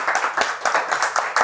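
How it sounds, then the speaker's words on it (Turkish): A studio audience at a Turkish rap comedy show claps in several brief, uneven bursts of applause, fairly close and continuous with no talking over it. "Ama az alkış bak"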